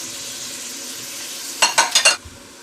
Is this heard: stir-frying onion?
yes